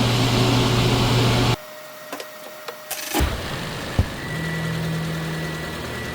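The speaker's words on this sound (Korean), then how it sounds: "지금 시동을 켰습니다." A car engine runs at a steady idle after a battery replacement, then drops out, leaving a few faint clicks and knocks before a quieter steady engine hum returns near the microphone.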